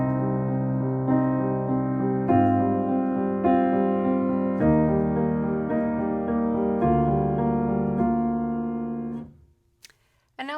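Piano plays a chord progression, sustained chords changing about every two seconds at moderate loudness, with no voice, before ringing out and stopping near the end.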